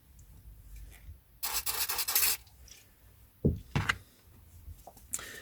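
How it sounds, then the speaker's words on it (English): Vintage Corgi paperback books are polished, with close bursts of dry rubbing and scuffing against the covers, separated by quiet pauses and a few soft knocks as the books are handled. "Last pile for polishing now."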